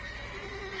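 A horse whinnies in The Witcher 3 video game, a short, steady neigh held for under a second, loud and clear over a constant game background with no talking.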